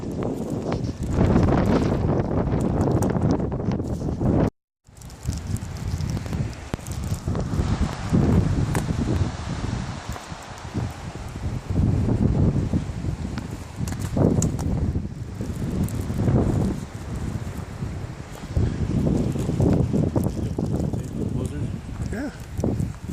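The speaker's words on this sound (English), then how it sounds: "35 degrees, snow and wind blowing." Strong wind roaring steadily during a blizzard at about 35 degrees with falling snow, buffeting the microphone in loud continuous gusts with one brief dropout, while someone talks over it.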